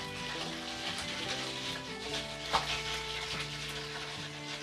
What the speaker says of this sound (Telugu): నేను దీన్ని ప్లేట్లోకి తీసి మళ్ళీ మిగిలినవన్నీ పీసెస్ని కూడా నేను ఇదే విధంగా ఫ్రై చేసేస్తాను.